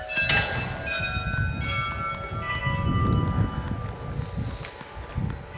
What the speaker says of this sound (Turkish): Saat 1 olduğu için güzel bir çan çalıyor.